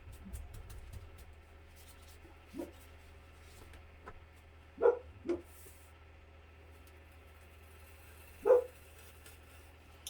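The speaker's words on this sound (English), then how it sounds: "I swear that dog is barking at her own shadow." A dog barks a few times at a distance, with isolated yips separated by long quiet gaps over a low steady hum. The dog is barking at its own shadow.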